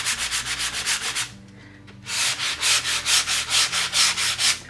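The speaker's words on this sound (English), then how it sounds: "I'm going to lightly sand that." Light hand sanding on shiny areas of an antique wooden secretary desk, a loud close rhythmic scrubbing of quick back-and-forth strokes that pauses briefly before resuming.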